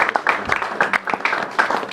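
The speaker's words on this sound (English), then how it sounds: "So I want to give you all to give yourselves a round of applause for." Players at a basketball club Christmas dinner applaud themselves, a short burst of scattered, uneven clapping from a small group, close and lively, mixed with a little chatter.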